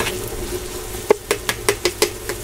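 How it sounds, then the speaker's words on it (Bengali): Onion and garlic frying in oil in a pot while being stirred, a soft sizzle under a rhythmic series of about seven sharp metal spoon clacks against the pan, close up. "এই পর্যন্তই আপনারা পেঁয়াজটা রসুনটা ভাজতে থাকবেন তেলের সাথে"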